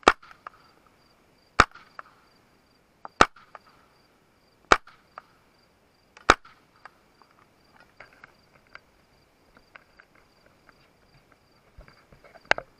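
Suppressed 9mm pistol shots through an AB Suppressors F4L can, five sharp evenly spaced reports about a second and a half apart with quiet gaps and small clicks between, then one more shot at the end.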